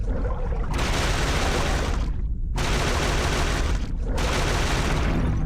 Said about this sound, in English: Wow, that's a lot of shots.